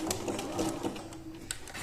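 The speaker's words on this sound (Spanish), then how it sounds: "Ya tenemos el elástico cosido, que no se nos ha retorcido" A sewing machine runs in quick rhythmic bursts while stitching elastic onto a skirt waistband, the needle's steady mechanical chatter close and fairly soft, pausing briefly between runs.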